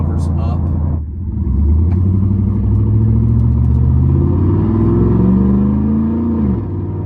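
A truck with a performance intake and loud exhaust rumbles and revs, its low engine drone swelling and easing while someone talks over it; the intake's air-sucking whoosh is hard to pick out.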